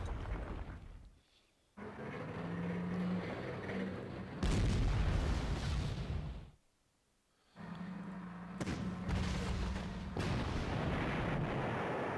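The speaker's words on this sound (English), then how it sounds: "The sound of that gun is music to my ears." Tank guns firing in the Panzer Corps strategy game, a Panther G engaging an M4A1: loud booming artillery-like blasts in bursts, separated by brief near-silent gaps, with no talking.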